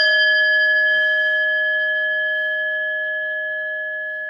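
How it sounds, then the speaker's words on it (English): A single bell strike rings out clearly and alone, its steady bright tone slowly decaying over several seconds with no talk. "but I'm just going to ring the bell."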